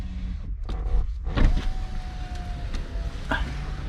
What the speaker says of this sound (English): Okay, let's wind down all the windows.